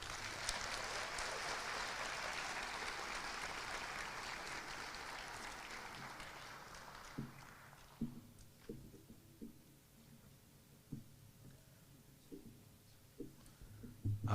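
Applause from the audience at a college of pharmacy and health sciences hooding ceremony, a steady crowd clapping that fades after about eight seconds, leaving scattered soft thumps and faint room noise.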